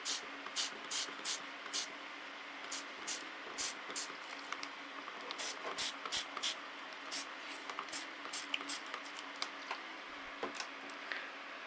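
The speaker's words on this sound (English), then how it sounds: "let's just spray it again here." A hand spray bottle mists a phalaenopsis orchid on a windowsill, giving a quick series of sharp, close hissing squirts in uneven bursts, some spaced out and some in rapid pairs.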